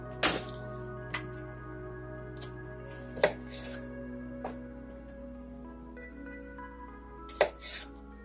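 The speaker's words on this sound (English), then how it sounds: "If they're small, I'm just going to cut them in half" A knife slices small petite potatoes in half on a board for a butternut squash and sausage bake, with a few sharp isolated cuts spread out over a steady low background hum.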